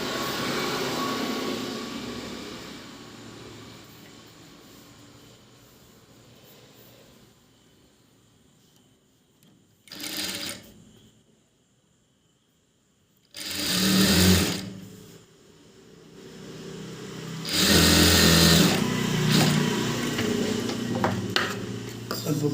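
Bursts of a sewing machine stitching the sleeve of a long coat: a rattling run at the start, then short stitching spells separated by quiet pauses, growing louder toward the end.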